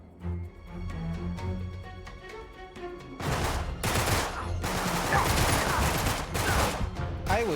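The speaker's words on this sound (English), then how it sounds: "I was shooting you in the head several times" Rapid bursts of gunfire from the video game Uncharted 3: Drake's Deception, with dense, loud automatic fire filling the second half after a quieter opening of game music and sound effects.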